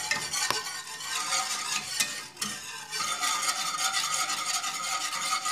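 Milk is stirred in a pot for chocolate liégeois, a continuous close scraping and swishing of the utensil against the pot with a few light knocks, and no talk over it.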